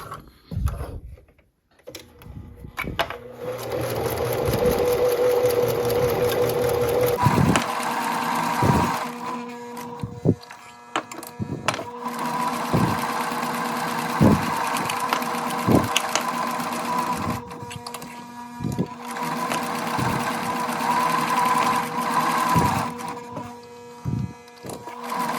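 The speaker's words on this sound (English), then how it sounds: "I'm going to sew with the interfacing side up because sometimes knit can move on you" A sewing machine stitches knit fabric with sew-in interfacing, running in a steady mechanical whir broken by short pauses and clicks as the needle stops and the fabric is pivoted, close and fairly loud with no talking.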